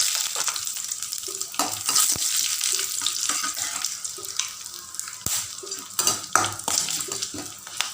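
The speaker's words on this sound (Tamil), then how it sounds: "கடலைப்பருப்பு பொரிஞ்சோடனே வரமிளகாய் சேர்த்து" Chana dal and dried red chillies fry in a pan for a drumstick-leaf egg stir-fry, with a steady close sizzle broken by scraping stirs and sharp clinks of a metal spoon against the pan.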